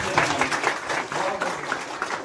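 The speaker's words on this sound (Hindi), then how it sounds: "आपको सम्मान करना है तालियां बजाकर," An audience at a teachers' honouring ceremony claps steadily and loudly throughout, with voices mixed in under the applause.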